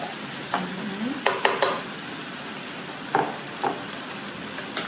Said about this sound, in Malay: Adding in my minced beef.